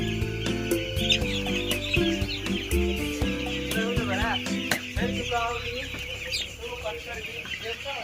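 Broiler chicks peeping steadily in a brooder house on a cold day, a dense continuous chorus of high chirps with scattered clucks, close and fairly loud over a low hum.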